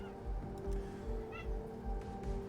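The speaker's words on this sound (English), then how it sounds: "I hear this cat." A cat gives a single faint, short meow indoors in a quiet room, set against low background hum and soft thumping.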